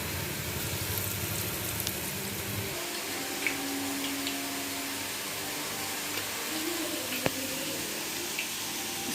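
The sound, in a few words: ladies finger vadai frying in oil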